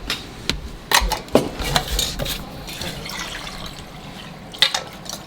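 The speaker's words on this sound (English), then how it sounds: "when it gets so full, it's hard to pour out without spilling it" Water from a very full container splashes and drips in uneven bursts during winter chores. The spills come as several sharp splatters, with quieter trickling between them. They are close up, and no one speaks.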